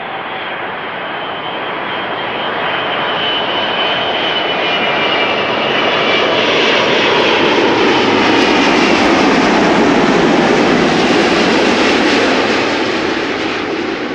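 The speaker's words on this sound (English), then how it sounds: "Emirates flight 147 arriving from Dubai." An Emirates passenger jet arriving from Dubai roars in to land at Amsterdam Schiphol, a loud close broadband rumble with whine that swells to a peak and then eases slightly.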